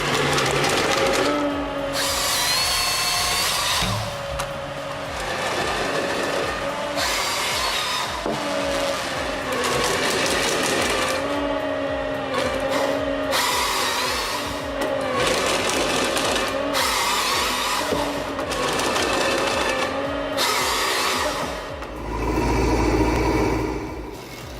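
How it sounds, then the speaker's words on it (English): A Friesa Tornado stump grinder with multi-directional blades chews through a tree stump, producing a dense, continuous grinding roar that stays loud throughout with shifting mechanical tones. "the Friesa Tornado stump grinder has these incredible multi-directional blades that seem to cut through the stump effortlessly"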